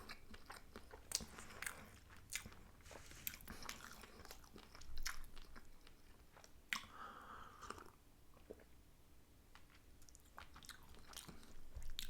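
Someone chews an assorted sushi platter with fish eggs close to the mic, soft wet bites and crunches repeating steadily with faint clicks and no talk.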